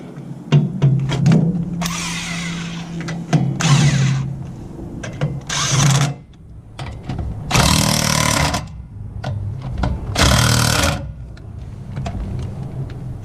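A cordless impact wrench works on the rear brake assembly of a Cadillac DeVille. It fires several loud, close bursts of rattling hammering with pauses and handling noises between them.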